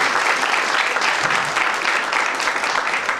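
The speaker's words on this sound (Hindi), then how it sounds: "एक बार ताली बजा दीजिए" A dense, loud round of applause from the crowd at a Golden Jubilee program, continuous many-handed clapping sustained from start to finish without a break.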